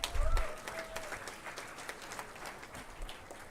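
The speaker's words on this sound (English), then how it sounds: "deserve the biggest round of applause" Audience applause for graduating students at a management institute convocation, sustained crowd clapping with a low thump near the start and a faint tone sweep early on.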